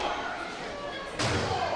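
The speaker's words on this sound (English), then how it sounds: "Oh, Payne slamming him. Then just going across our merch table." A wrestler is slammed through a merch table at an SVW independent wrestling show, a sudden loud thud and crash landing over constant crowd noise and commentary.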